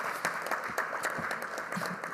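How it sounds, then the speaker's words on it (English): An audience at a Philadelphia school district address applauds CCME, a dense, steady wash of clapping from many hands filling the room. "So give CCME a round of applause,"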